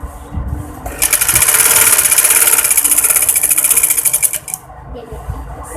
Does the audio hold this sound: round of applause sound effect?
no